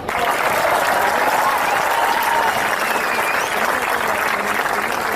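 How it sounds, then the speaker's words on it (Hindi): Steady, dense applause from a live audience at a Hindi comedy stage show, sustained and fairly loud for the whole stretch with a faint crowd murmur beneath it. "अच्छा लगे तो दोस्तों आपकी तालियां चाहूंगा"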